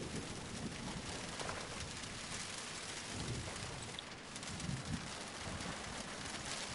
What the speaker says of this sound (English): I like the sound of the rain on the windshields